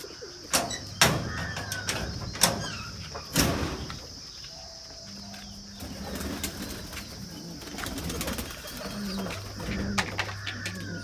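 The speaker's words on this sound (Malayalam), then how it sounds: "പ്രാവ് ശരിക്കും ഇതിൻ്റെ ഉള്ളിൽ ഫുള്ള് നിറഞ്ഞു" Pigeons in a loft coo in low, repeated calls with occasional wing flaps and chirps, close and moderately loud throughout, with some sharper bursts of movement near the start.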